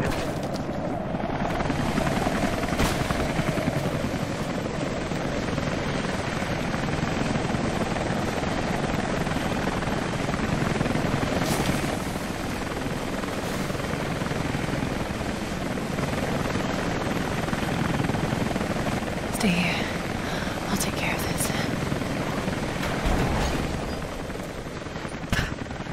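A helicopter in the video game Rise of the Tomb Raider gives a steady, loud rotor drone throughout, with a few sharp cracks that sound like gunfire layered over it. Nobody speaks.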